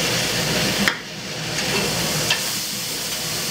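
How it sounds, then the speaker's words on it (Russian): A half-pound cheeseburger fries on a flat diner grill in the Twin Cities, Minnesota, with a loud, continuous sizzle and hiss close by and no talking. "А это мой полуфунтовый жарится чизбургер."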